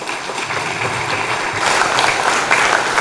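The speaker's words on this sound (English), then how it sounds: "A very big round of applause." An audience at a veterinary scientific symposium in Uganda applauds after a presentation, a steady wash of clapping that swells slightly louder partway through.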